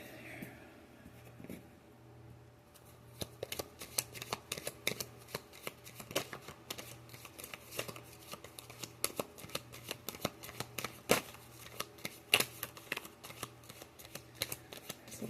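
Tarot cards shuffled in repeated quiet riffles and soft flicking taps, the crisp papery snaps coming in uneven bursts close by over a low steady hum. There is no talking.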